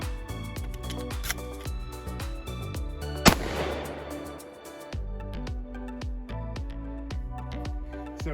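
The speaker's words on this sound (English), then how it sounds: "So we got here a Beretta 1301 Tactical." A Beretta 1301 Tactical shotgun fires a single 12 gauge cut shell: one sharp, loud blast with a short rumbling decay, standing out against a steady rhythmic background.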